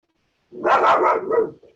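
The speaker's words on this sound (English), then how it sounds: "sorry, my doggy's barking" A pet dog gives one short, close bark, a single sharp burst after a moment of silence, with a slight whimpering trail at the end.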